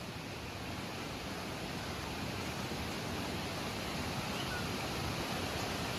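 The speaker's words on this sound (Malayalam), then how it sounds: "പുഴയുടെ ഒഴുക്ക്, വെള്ളം ഇപ്പം വെള്ളം കുറഞ്ഞു കേട്ടോ" River water in a village in Idukki, Malayinchi, flowing at low level, a continuous even rushing hiss with no breaks, close and moderately loud throughout.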